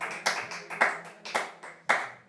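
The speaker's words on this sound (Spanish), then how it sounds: "Démosle un aplauso al Señor Jesús." A congregation claps their hands together at a church service, five separate crisp bursts spaced irregularly, each ringing briefly in the room before the next.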